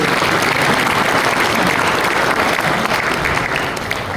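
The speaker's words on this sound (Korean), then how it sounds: "그럼 저희가 감사의 박수를 함께." Applause from a church congregation at a pastors' seminar, a steady wash of many hands clapping, loud and close, holding for about four seconds before easing slightly at the end.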